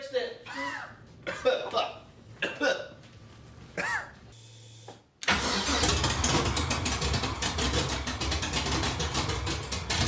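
A person talks in short bursts, then a built LS1 V8 engine swapped into a BMW E36 cranks and catches on its first start, settling into a loud, steady idle.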